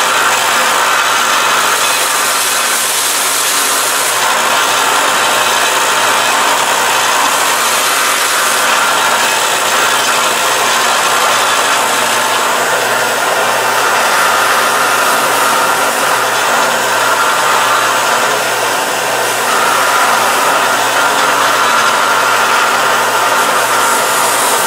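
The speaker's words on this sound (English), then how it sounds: "I'm going to come over here to the belt sander and I'm going to clean it up" A belt sander squares up a block, a loud, continuous abrasive roar with a steady motor whine that holds unbroken for nearly twenty-five seconds, with slight swells as the wood is pressed to the belt.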